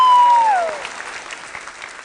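A studio audience on a television celebrity couple game show claps in a brief burst that fades quickly, overlapping a falling electronic sound effect tone, fairly close and loud at first.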